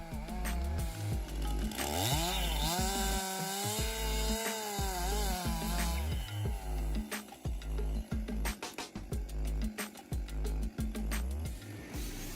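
A petrol chainsaw with a 50.2cc, 3 kilowatt engine felling trees, its engine whining and revving up and down in repeated surges with sharp cutting bursts, fairly close and alone without talk.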